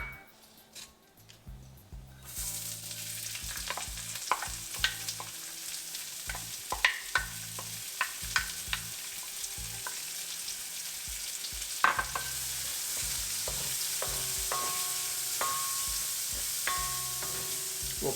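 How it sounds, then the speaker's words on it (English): Onions fry in hot oil in a kadai, a steady broad sizzle that builds and holds, with scattered clicks and scrapes of stirring on top and no talk. "We'll cook the onions for a couple minutes till they soften up."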